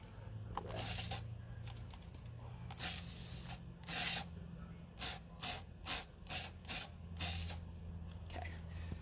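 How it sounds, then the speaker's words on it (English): Several bursts of spray paint laid over a raised lace stencil design, short hissing blasts repeated irregularly at close range, with a low steady hum underneath. "just have to spray that over"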